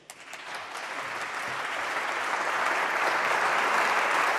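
A studio audience breaks into applause at a televised abortion debate, a few early claps swelling quickly into loud, sustained, even clapping from a large crowd.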